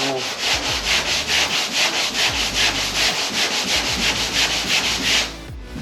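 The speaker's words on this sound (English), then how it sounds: "I'm basically just taking my sander across, skimming the light" An electric sander runs steadily across the body panel of an old-body-style Chevrolet K1500 pickup, making a close, loud abrasive rasp that pulses in even back-and-forth strokes before easing off near the end.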